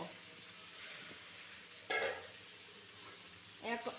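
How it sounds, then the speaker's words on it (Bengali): Soft sizzling of spices frying in a pan, with two scraping stirs of a spoon against the pan. "এবার মশলাটা ভাজা হয়েছে"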